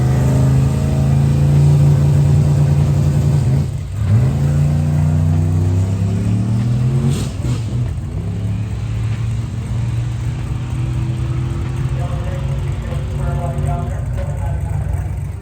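A sleeper Squarebody truck engine at an LS Fest drag racing event rises and falls in loud revs, then settles into a rumbling idle close by, with a clear throttle blip midway.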